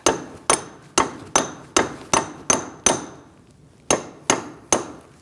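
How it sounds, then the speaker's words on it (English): Sharp metallic hammer strikes on a punch against a rusted front wheel hub axle of a 2002-2006 Toyota Camry ring out at a steady pace, about a dozen blows with one brief pause, close and loud with no talking. "we're going to use a punch to get it past that rust"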